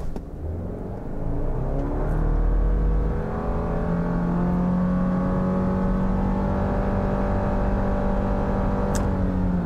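A 2022 Subaru Forester Wilderness all-wheel-drive compact SUV accelerating hard from 0 to 60 in sport mode, engine droning loudly and rising steadily in pitch from a brake-torqued start, heard from inside with no talking.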